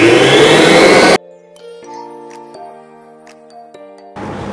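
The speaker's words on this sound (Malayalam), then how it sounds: "വീണ്ടും ബീറ്റ് ചെയ്യാം." An electric beater whips a sweetened condensed-milk ice cream base, a loud whirring burst at the start that cuts off, leaving soft chiming tones, then resumes near the end.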